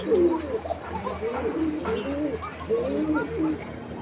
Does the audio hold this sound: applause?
no